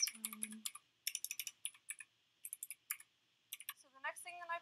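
Clicky mechanical keyboard with Gateron green switches typed in quick bursts of sharp, close clicks separated by short pauses, with a brief voice-like tone near the start and a short vocal sound at the end.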